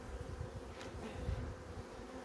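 Honey bees buzz steadily around a beekeeper working a hive, a dense continuous drone close by with one louder individual bee passing near.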